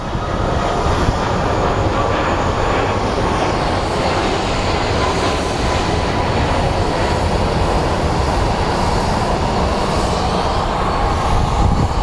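An airliner departing Phoenix Sky Harbor International Airport gives off a loud, unbroken jet roar that holds steady and close for the whole stretch, with no talking over it.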